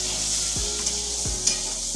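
Potatoes deep frying in mustard oil in a pan for a Bengali alu bori methi saag, a steady loud sizzle with two stirring scrapes through the oil and no voices.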